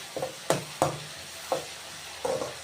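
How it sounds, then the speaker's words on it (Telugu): Onion, tomato and curry leaves frying in a pan for cabbage fry, a soft sizzle broken by a few distinct spatula scrapes and knocks at irregular intervals. "ఇలాగా ఒక 2 నిమిషాలు వేయించుకోవాలి"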